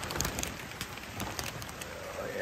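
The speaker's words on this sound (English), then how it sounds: "Got some major rain still coming down." Heavy rain pours down outdoors during an atmospheric river at a single-wide mobile home rebuild site, a steady dense hiss with scattered drop patter throughout.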